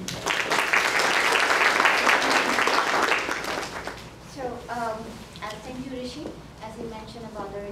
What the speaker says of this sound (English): A big round of applause for Namita.